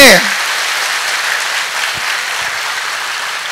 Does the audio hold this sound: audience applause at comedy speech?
yes